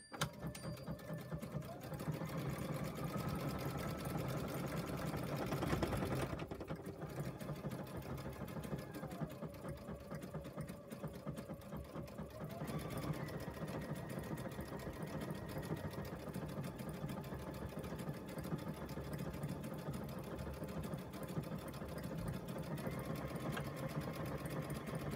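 A sewing machine running steadily as it stitches decorative pattern 982, its motor hum and rapid needle clatter continuous and close, with faint tonal beeps now and then.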